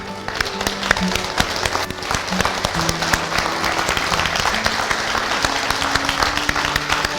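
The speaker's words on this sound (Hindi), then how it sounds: "एक बार खड़े होके एक बार खड़े होके ताली बजा दें" Audience at a business training seminar rising to its feet and applauding, dense sustained clapping that fills the whole stretch with no break.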